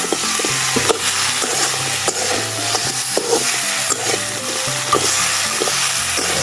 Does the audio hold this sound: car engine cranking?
no